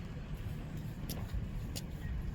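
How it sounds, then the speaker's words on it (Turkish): A car passing along a rural road near a farm with a John Deere 5503 tractor, a steady low engine and tyre rumble holding at moderate loudness throughout. "Bekle araba geliyor sanki."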